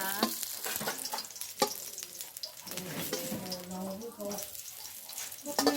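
Long beans with egg stir-frying in a pan over a charcoal fire, a steady sizzle with scraping stirs throughout, while someone talks over the cooking.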